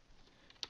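Two quick, light keystrokes on a computer keyboard during a Windows setup task, close and crisp against quiet background hiss.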